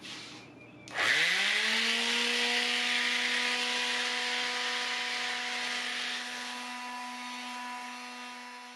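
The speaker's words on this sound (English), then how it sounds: "So my very first step was to sand off all of the old finish." A power sander stripping the old finish from a wooden nightstand switches on with a sudden start and then holds a steady, loud whine with a constant abrasive hiss, close by with no talking.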